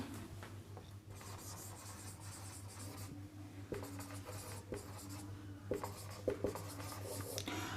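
Marker or chalk writing "Good Morning" on a classroom board, a steady close scratching and rubbing that runs throughout with small taps and strokes, over a low constant hum and no talk.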